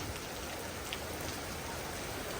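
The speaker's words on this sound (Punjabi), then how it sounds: "ਨਾਲ ਦੀ ਨਾਲ ਮੀਂਹ ਸਟਾਰਟ ਹੋ ਗਿਆ" Soft, steady rainfall patters continuously at a low level, with a few individual drops standing out against the even hiss.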